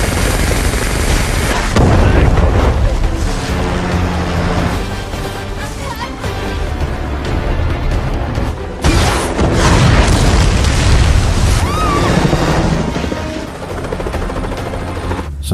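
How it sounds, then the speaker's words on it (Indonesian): In a film action scene, a helicopter attacks two people fleeing through a forest: a dense, loud roar of rotor noise, gunfire and booming blasts runs continuously with several heavy impact surges. "Keduanya pun lari ke tengah hutan sambil dibombardir oleh helikopter tersebut."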